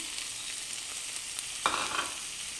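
Spinach (palak) frying in a pan for palak dal, a steady soft sizzle throughout with a brief louder stir or crackle partway through, no voices.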